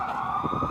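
A fire engine siren on a city street during a car-free day festival, a loud steady wail close by with traffic rumble underneath.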